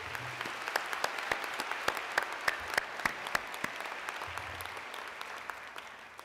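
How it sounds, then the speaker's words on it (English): An audience at a spring convocation ceremony applauds steadily, a dense, sustained clapping from many hands that fills the hall evenly and goes on without talk. "So please give these tremendous students a great hand of applause again."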